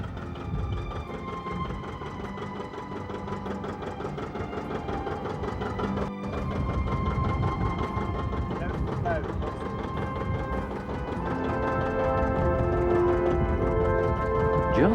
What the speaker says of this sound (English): Drawn here by a mighty John Deere.